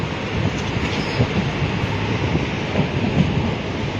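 A train rumbles steadily at close range through an old railway station, the last station in Boudh district, with a dense, continuous rolling roar and faint wheel clatter throughout.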